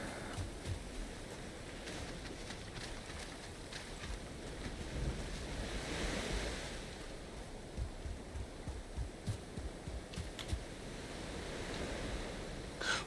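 Steady wash of ocean waves and wind by the water in the Valheim video game, a continuous broadband roar with gentle swells, no talk.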